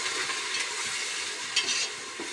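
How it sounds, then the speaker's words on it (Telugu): Spices being stirred and mixed together in a pan for egg biryani, a steady close scraping and stirring with a faint sizzle running throughout, a couple of brief louder scrapes partway through, no voices. "దీనంతా ఒకసారి బాగా మిక్స్ చేసుకుంటాం."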